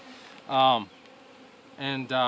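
Honey bees at an open backyard beehive, buzzing close by in two short loud bursts separated by a quieter hum.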